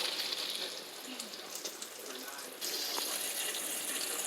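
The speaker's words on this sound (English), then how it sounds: "I'm draining the pasta noodles" Hot water from boiled macaroni pasta pouring out into a kitchen sink, a steady splashing rush with a faint trickle underneath, quiet and continuous with a brief louder surge partway through.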